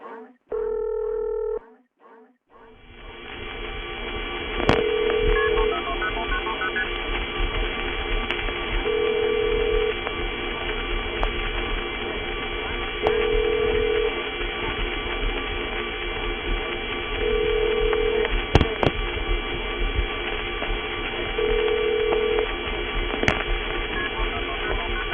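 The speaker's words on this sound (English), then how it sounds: "One thing you will be able to hear, of course, is another ingredient of it, the AIS operator ring." Vintage telephone network trunk noise from the late 1970s, a steady hissing line with faint tones, overlaid with an AIS operator ring repeating at regular intervals and occasional clicks; a short burst of tones opens it.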